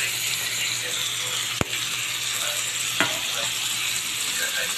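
Alomahan fish grilling in a pan with little oil, steady close frying hiss running throughout, with one sharp click near the middle and a softer tap later.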